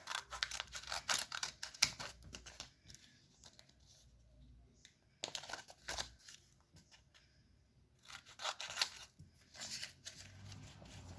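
Paper snipped with scissors during a craft lesson, several short bursts of crisp cutting and rustling separated by quiet pauses, close and fairly faint.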